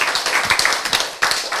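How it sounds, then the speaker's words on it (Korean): An audience at a Korean health lecture claps in a brisk, fairly loud burst of overlapping handclaps that briefly thins and then picks up again. "박수 치는 거 좋아요"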